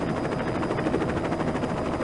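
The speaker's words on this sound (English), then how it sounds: "Go ahead and steer the chopper over the gulch" Helicopter rotor chopping steadily in a Playskool children's educational computer game, a continuous loud mechanical thrum with no voices over it.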